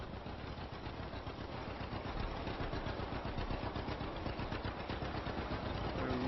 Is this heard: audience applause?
no